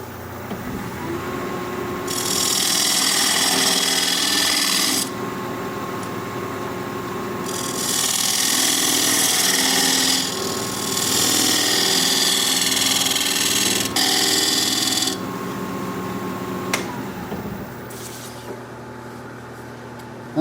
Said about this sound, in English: Now I'm going to use this diamond point tool to straighten the sides on my tenon.